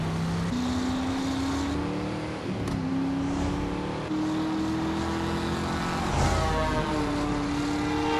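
A helicopter in the driving video game Driver San Francisco gives a loud, steady engine drone with a whirring pitch that shifts up and down, over the rumble of a vehicle, with no voices.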